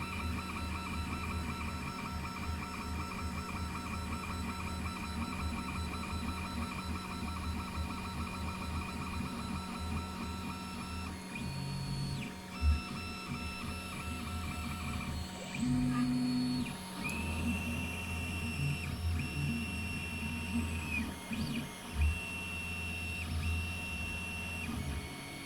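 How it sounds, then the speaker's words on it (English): A 3D printer lays down a thicker base for a plane part. Its stepper motors whine in shifting tones with mechanical clicks and buzzes, running steadily and close throughout. "it's printing a thicker base because you want a little bit of strength at the bottom"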